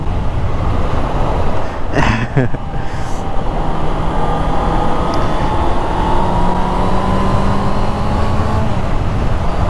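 Honda CB650F four-cylinder motorcycle engine pulls steadily under acceleration, a loud continuous drone with a slowly rising tone over wind and road rush, plus a brief sharp noise burst near the start.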